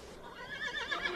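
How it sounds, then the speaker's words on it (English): A horse gives a short, loud whinny, its shrill neigh wavering up and down for about a second. "Horses!"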